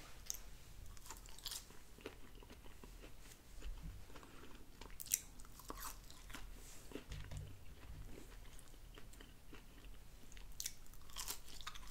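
Hand-cut Five Guys style french fries are bitten and chewed close up, with soft repeated crunches and steady mastication sounds and no talking.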